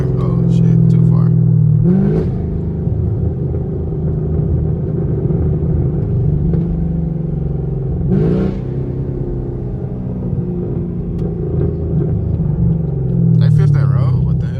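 A catless 6th gen Chevrolet Camaro SS V8 exhaust rumbles deeply from inside the car, rising in several loud accelerating pulls with gear-shift breaks between them, steady throughout.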